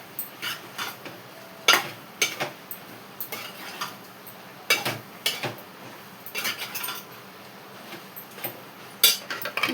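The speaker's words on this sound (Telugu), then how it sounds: "ఇలా చక్కగా కలిపేసుకొని" A spoon stirring curry in a metal pan, with irregular clinks and scrapes repeating throughout, close and moderately quiet, with no talking.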